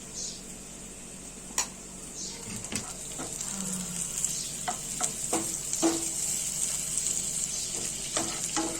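Hard, freezer-chilled butter melts in a hot frying pan for a homemade paneer bhujia, giving a steady soft sizzle with occasional clinks and scrapes of a utensil against the pan. The sizzle stays close and moderately loud throughout.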